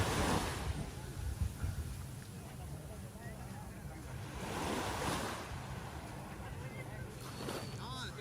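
Ocean surf washes onto a beach at Yelapa, a steady broadband roar of breaking waves with surges near the start, around five seconds and again near the end, with some wind noise on the microphone.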